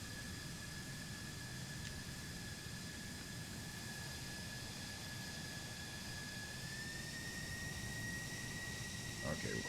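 Jet aircraft taking off from runway 25 in a flight simulator, a steady engine roar with a high whine and hiss holding constant throughout, a voice speaking over it.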